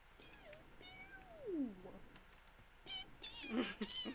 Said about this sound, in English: Why are those cat laser noises?